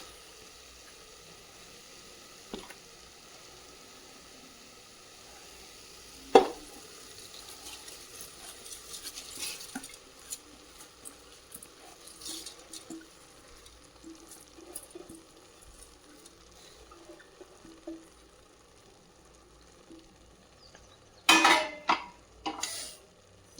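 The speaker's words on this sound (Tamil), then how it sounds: "நல்லா ஒரு கிளறி விடுங்க, மசாலா அரிசி எல்லாம் மிங்கிள் ஆகிற மாதிரி" A spoon stirs rice, lentils and masala in a cooking pot, giving quiet, scattered scraping and clinking with a few sharper metallic knocks and a louder flurry of clatter near the end.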